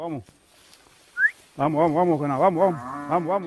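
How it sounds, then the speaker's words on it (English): Cattle on a ranch low with a long, wavering moo after a brief high whistle-like call, loud and close against an open outdoor background. "these 100 cows are waiting for him."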